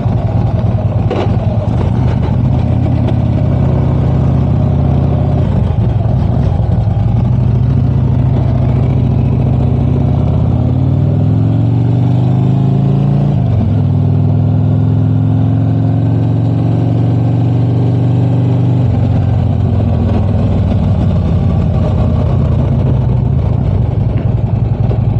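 A vehicle engine running steadily and loud throughout as it pulls away and drives off, with rising and falling pitch from gear changes and acceleration.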